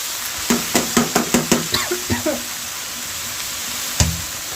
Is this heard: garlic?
yes